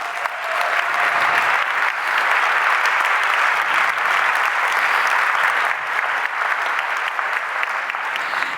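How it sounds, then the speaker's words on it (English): A large conference audience applauds as the founder takes the stage for opening remarks, a dense, loud and steady wash of clapping sustained throughout without speech. "Will you please give a round of applause for our founder, the great Martin Essl."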